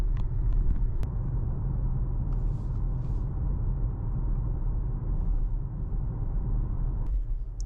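An electric car rolls steadily over a road with a continuous low rumble, a single sharp thump near the start and a softer jolt near the end as it drives over a bump.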